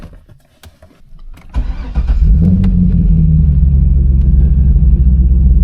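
A car parked in a garage clicks and clatters, then its engine cranks and catches, rising into a loud, steady idle with a brief rev, close by and with no voices.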